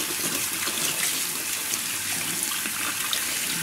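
Drained brine from a bowl of salted cabbage splashes out in a steady, close pour of water, a continuous wet hiss and trickle lasting throughout with no talking.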